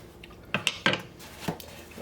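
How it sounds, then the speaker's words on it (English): A lid goes back onto a pot of stew with a few light metallic clinks and scrapes, close and fairly sharp, followed by a small knock at the end. "So I'll put the lid back on."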